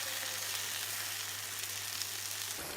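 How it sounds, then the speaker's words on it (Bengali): Garlic, ginger, dried chillies, whole cumin and coriander seeds sizzle steadily in a pan, a continuous close hissing fry that cuts off near the end. "এখন আবারও নেড়ে সবগুলো উপকরণ আরও কিছুক্ষণ ভেজে নিব।"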